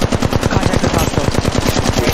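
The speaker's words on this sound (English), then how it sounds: "Reloading. Getting shot at." Rapid automatic gunfire rattles loudly and continuously in Apex Legends Mobile, a dense stream of close shots lasting the whole stretch, with no talking over it.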